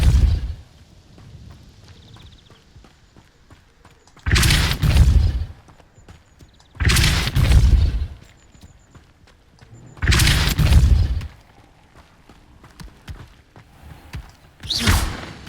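Depulso spell being cast in the video game Hogwarts Legacy, four loud booming whooshes spaced a few seconds apart, each a broad rushing blast over a low, quiet background.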